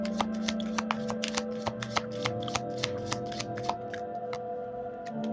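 Tarot deck being shuffled by hand at close range: a steady run of quick, crisp card riffles and flicks over a low constant hum, with no talking.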